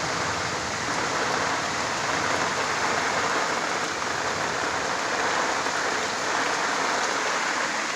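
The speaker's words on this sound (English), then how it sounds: "Whoa, it's raining bad out there." Steady, heavy rain roars continuously, a dense broadband hiss of downpour with no voices, unbroken for the whole stretch.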